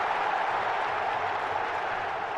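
Steady roar of crowd applause and cheering for a shot put athlete in a London 2012 Olympic video game, dense and continuous at full volume throughout.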